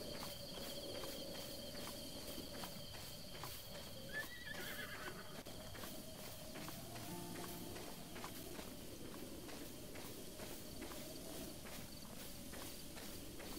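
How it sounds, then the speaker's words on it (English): Horse in a Nintendo Switch game, a faint whinny and steady clip-clopping hooves over constant chirping insects in an open grassy field, at low volume. "Let's see if I can catch a horse."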